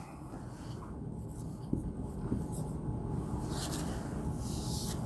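Someone writes on a board during an English grammar lesson, producing a steady, soft scratching that runs continuously over a low background hum, with a couple of slightly firmer strokes midway. No speech is heard.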